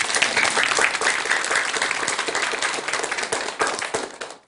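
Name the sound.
audience applause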